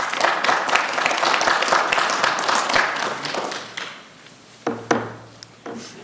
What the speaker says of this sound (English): We have to hold the applause down, please.